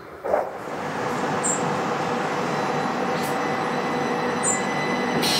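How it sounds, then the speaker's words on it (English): A class 375 electric train departs Rochester station with a steady, rising rumble and a faint high whine from the wheels, continuous and fairly loud. "as this class 375 departs to London Victoria"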